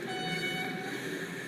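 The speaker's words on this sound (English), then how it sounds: "The J horn sounds like the Temmental Railways horn." Train horn from a Dutch freight train in the Rails Unlimited video game, a steady sustained tone held throughout at moderate level, with no talk.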